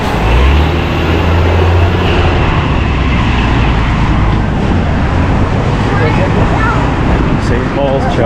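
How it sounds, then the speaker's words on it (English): A deep, steady rumble of a passing New York City subway train near the World Trade Center fills the space, loud and continuous, with city noise and some voices mixed in underneath. "Sounds like some subway action or something."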